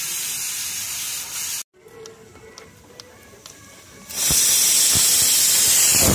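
A pressure cooker on a home stove vents steam while pakoras are being cooked, a loud sharp hiss that cuts off abruptly, leaves a quieter gap with faint clinks, then returns as a sustained loud blast.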